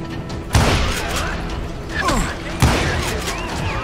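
Gunshots in the Call of Juarez: Gunslinger western shooter, two sharp loud reports spaced about two seconds apart with ringing, mechanical tails and a softer shot between, over ambient game noise with some talking.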